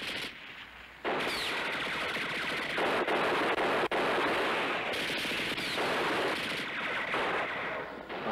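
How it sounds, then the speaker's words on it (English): Machine gun fire in a war TV drama pins soldiers down on a bridge, sounding as long loud bursts of rapid automatic shots with brief gaps between them, alone without speech. "They're pinned down onto the bridge with a machine gun."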